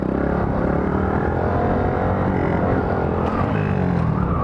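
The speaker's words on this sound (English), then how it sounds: "Y'all hear me chop the throttle?" A Honda Grom motorcycle ridden at night, its engine loud and close as the throttle is chopped, the drone sliding down in pitch near the end.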